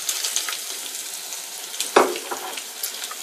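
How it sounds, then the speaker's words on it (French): Sliced onion and curry leaves frying in a pan, a soft continuous sizzle with one sharper crackle and light stirring scrapes, fairly quiet and without speech. "On va mélanger un petit peu et laisser bien revenir jusqu'à ce que les oignons sont bien transparents."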